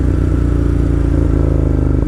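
A motorcycle with a loud exhaust rumbles steadily up close, a deep throbbing engine note with a rapid pulsing beat and a clattering mechanical edge throughout.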